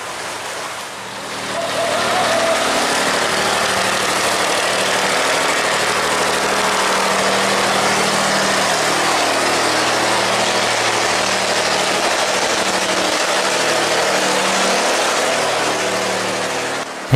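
Engines of two wooden boats jostling through a river sluice gate, a steady droning rumble that holds loud and continuous throughout, mixed with rushing water noise and no speech.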